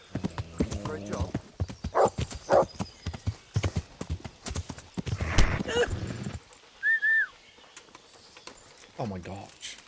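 Horse hooves clip-clopping in the video game Kingdom Come: Deliverance, a handful of uneven thuds mixed with game sounds and a short whistle-like tone, while a person talks over much of it.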